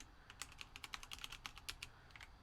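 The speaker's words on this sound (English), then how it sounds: "Just gonna finish up what I'm typing here." Rapid, irregular clicking of computer keyboard keys, very faint and close, a steady patter of keystrokes with brief pauses and no voices.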